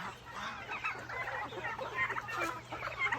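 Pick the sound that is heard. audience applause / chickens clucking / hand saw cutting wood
chickens clucking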